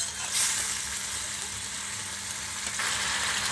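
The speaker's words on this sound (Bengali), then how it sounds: "মশলাটাকে আমি খুব ভালো করে কষিয়ে নেব।" Turmeric and chili powder masala frying in a pan for shrimp bhuna sizzles loudly and continuously, with a brief stirring scrape near the start and again near the end.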